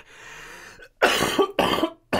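Two harsh, loud coughs in quick succession, close to the mic, after a quieter stretch of background noise and a short breath.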